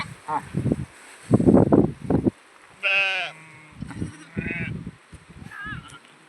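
Goat kid in a village setting, recovering from illness, bleating in several short wavering calls between bursts of nearby rustling and handling noise, with a voice talking briefly.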